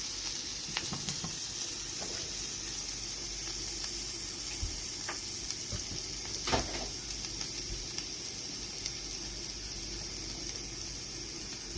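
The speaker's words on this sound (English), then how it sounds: "Put my jalapeno peppers in there. I'm gonna just saute them real quick." Sliced jalapeno peppers sauté in hot oil over medium heat, giving a steady, close sizzle and hiss throughout with occasional stirring clinks and no talking.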